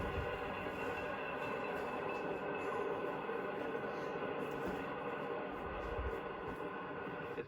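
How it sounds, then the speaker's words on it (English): A 1954 Santa Fe Super Chief passenger train rolls toward a station, giving a steady, loud rumble of wheels and carriages with a continuous mechanical drone and no clear pauses. "the train is approaching a station."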